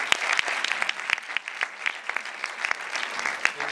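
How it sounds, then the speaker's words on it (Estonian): An indoor audience applauds steadily for several seconds at a youth work awards ceremony, with dense, even clapping and no speech over it. "teeme suur aplausi!"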